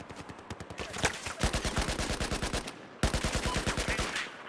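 Rapid automatic rifle fire in the video game Battlefield 4, a fast steady stream of close, punchy shots in two long bursts separated by a brief pause.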